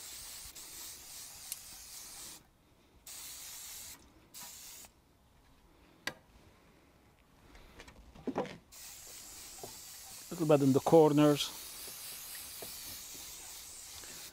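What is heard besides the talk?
cooking spray sprayed into a balustrade railing mold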